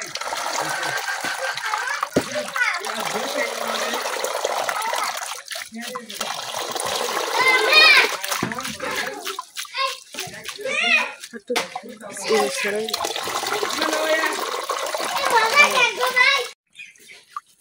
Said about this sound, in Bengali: এখন পানি দিয়ে ধুইলা লাগবো।